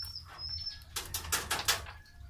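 Pet pigeons beat their wings in a quick burst of flapping, close by and fairly loud over a quiet background hum.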